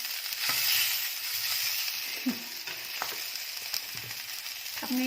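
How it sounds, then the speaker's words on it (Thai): Potatoes and sausage stir-fry in a hot pan, a steady sizzle with scattered scraping and clacking of a utensil stirring the food, fairly soft and close. "ผัดมันฝรั่งทอดไส้กรอก"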